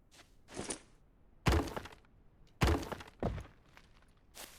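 Building pieces break apart in the survival game No One Survived as five or six separate thunking, crashing impacts with brief shattering tails, spaced irregularly across a few seconds against near silence.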